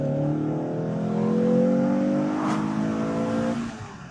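A sports car launches hard from a standstill with no limited-slip differential, its engine revving steadily upward while one driven wheel spins, a brief tire squeal rising near the middle; loud and close, with no talking.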